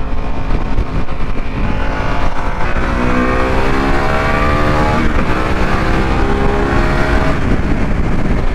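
A 2021 Harley-Davidson Pan America Special motorcycle pulls hard in second gear, its engine note climbing steadily and then briefly dropping before rising again, loud and close with no talk.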